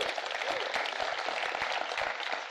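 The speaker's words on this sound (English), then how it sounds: "Give them a round of applause." Crowd applause at a city State of the City address, a sustained even patter of many hands clapping at moderate level without any speech over it.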